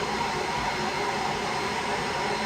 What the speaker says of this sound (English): It's our Roomba, or robot vacuum cleaner that Haley, our puppy, does not like